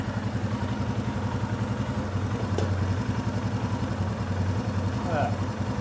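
A Royal Enfield Himalayan motorcycle engine idles steadily up close, its low rhythmic thrum and mechanical clatter continuous throughout, with no voices over it.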